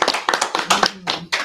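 A small audience claps at a ministry community meeting, a brief burst of uneven hand claps, close and fairly loud, lasting about a second and a half.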